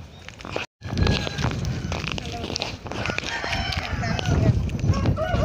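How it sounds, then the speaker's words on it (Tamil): A large flock of roosters and hens roams a forest area, with crowing and clucking scattered over a busy, close background. Occasional voices are faintly mixed in. "1000 மேற்பட்ட சேவல் இருக்குது."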